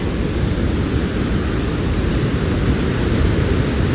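Victoria Falls at Livingstone, Zambia, roars with a dense, constant wash of falling water and spray, loud and unbroken like heavy surf, with no talking.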